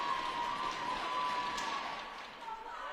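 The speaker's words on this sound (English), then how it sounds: "the Admiral crowd is going ballistic right now" Home crowd at a high school Admirals game cheers and claps loudly, a broad roar of voices and applause that fades slightly toward the end.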